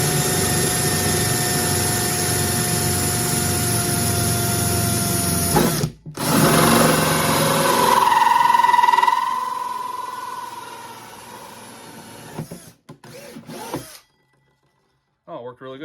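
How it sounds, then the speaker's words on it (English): A power drill bores into plastic with its bit run in reverse, giving a loud, continuous whine that dips briefly, surges again and then cuts off near the end. "I've known in the past drilling plastic, sometimes it's actually better to run the bit in reverse."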